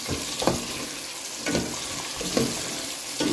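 Steady sizzling of carrots and onions sautéing in a pan, with a few louder stirring scrapes at intervals and no talking.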